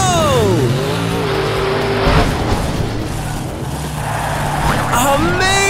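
A toy monster truck jumps a row of nine buses in a kids' counting show: engine roar with rising and falling revs, a tire squeal and a sharp landing thump near the middle, with a voice talking over it.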